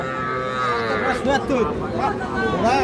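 Bull calves low and moo repeatedly at a busy cattle market in Aftabganj, with several rising and falling calls over steady crowd chatter and bargaining voices.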